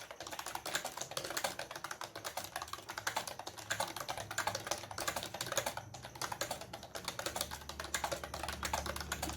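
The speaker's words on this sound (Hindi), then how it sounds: "ये टाइपिंग एक टेस्ट मैं आपको दिखा रही हूँ" Fingers type rapidly on a computer keyboard during a typing skill test, producing dense, continuous clicking keystrokes close to the microphone with no break in rhythm.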